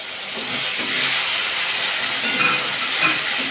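Ground tomato paste tipped into a hot pan, a broad steady hiss of sizzling that rises quickly and holds close and even, with faint soft stirring underneath.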